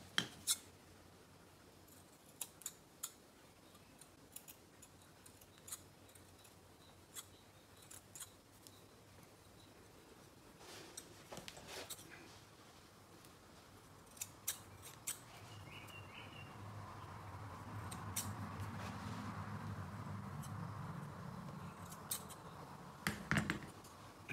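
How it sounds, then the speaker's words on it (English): Small scissors trimming the hairs around a handmade Snoof's eyes, a series of quick, faint snips and clicks spaced irregularly over a quiet background, with a low hum rising toward the end. "Just gonna trim some of these hairs"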